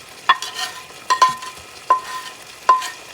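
Ham stirred in hot grease in a pan: four sharp metallic scrapes and clinks of a utensil over a faint sizzle, spaced at uneven intervals, close and clear with no talking.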